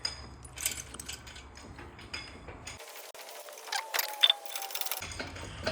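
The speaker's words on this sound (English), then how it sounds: "we are pulling the head off to see the shrapnel" A ratchet clicks rapidly as bolts come off the cylinder head of a blown 12-valve Cummins diesel engine in a shop, with bursts of close mechanical ratcheting and some metallic clinks.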